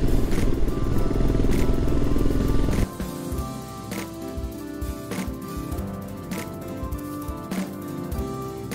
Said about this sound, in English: So this is my bike.